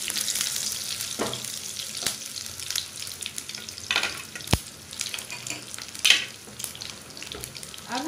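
Curry leaves and chana dal hit hot oil with a loud crackling sizzle, sharp pops and spatters scattered over a steady frying hiss, up close with no speech.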